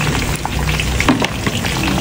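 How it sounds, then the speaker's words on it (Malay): Sliced onions sautéing in a hot pan, a steady dense sizzle with small crackles and pops throughout, no voices. "Kita tumis sebentar."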